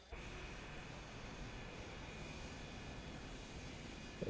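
In Microsoft Flight Simulator 2024, a Virgin Airlines airliner readies for departure at Alice Springs, its engines holding a steady, even roar with a faint whine at moderate distance, unbroken and without voices.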